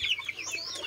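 Chickens in a pullet pen cluck and chirp briefly at close range while being fed, a quick cluster of high, overlapping calls.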